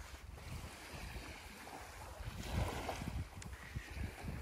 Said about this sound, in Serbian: Mirno more.